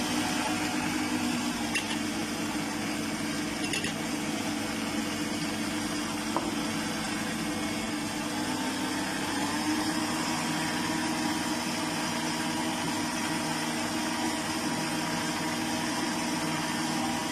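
An electric mixer beats cake batter with added oil, a continuous steady motor whir with a constant hum that runs unchanged for the whole stretch and no talking.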